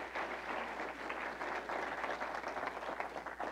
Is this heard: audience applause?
yes